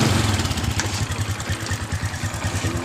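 A Honda Supra X 125 motorcycle engine runs at a steady idle, close and fairly loud, with an even rapid pulsing throb and no voices.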